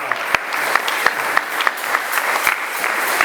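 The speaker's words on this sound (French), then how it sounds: "Applaudissons pour mon papa." A church congregation applauds the pastor's father, sustained clapping from many hands with sharper individual claps standing out over a steady patter.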